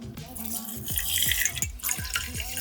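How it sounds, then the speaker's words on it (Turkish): Water splashes and gurgles into a pot of rice for sushi, with a few bright pours and drips in quick succession, close by. "Bir buçuk su bardağı pirince üç su bardağı su ekliyorum"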